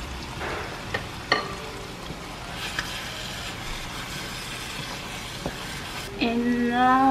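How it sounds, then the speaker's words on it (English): Eggplant sauce frying in a pot, a steady low sizzle with occasional spoon knocks and stirring clatter, moderately close, ending with a louder tonal scrape or hum. "So I'm going to mix this up and let it fry for 5 minutes."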